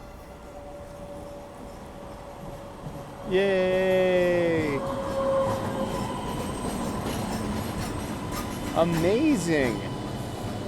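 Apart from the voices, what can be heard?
commuter train arriving on a rainy morning in Boston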